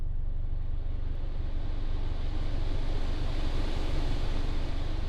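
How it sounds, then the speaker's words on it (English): The ventilation fan of a 2015 Nissan Juke 1.6 Nismo RS DIG-T blows inside the cabin as a loud, steady, broad rush of air that stays even throughout, with no voices. "here you've got your fan severity, so you can turn it down or up depending if you want gale force wind"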